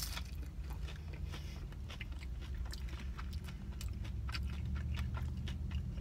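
Biting and chewing Applebee's beef nachos with melted cheese, a close, quiet series of soft crunches and mouth sounds repeating steadily, with no talking over it.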